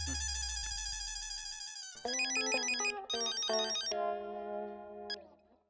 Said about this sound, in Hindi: मैं अभी अंजलि भाभी को फोन करती हूँ।